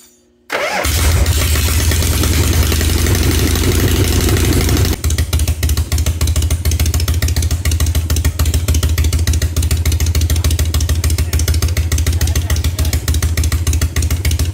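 A 1970s Harley-Davidson Shovelhead motorcycle, freshly fitted with a rebuilt carburetor and new plugs, fires up after a brief silence and runs loud and close, a steady pounding idle that rises into revs.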